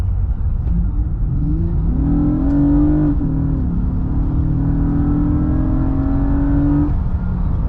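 A 2008 Acura TL with a cold air intake accelerates hard from a 30 mph roll, engine note climbing in pitch, briefly dipping at a shift, then rising again in a loud, continuous in-cabin roar.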